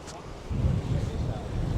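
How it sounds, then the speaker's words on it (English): Steady wind buffets the microphone at a waterside spot, a low rumbling roar that swells after a brief quieter start and stays loud and continuous. "Windy spot."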